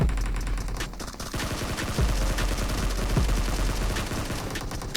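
Sustained M249 machine gun fire in PUBG Mobile, dense rapid bursts of shots merging into a continuous loud rattle with heavy low booms, no voices.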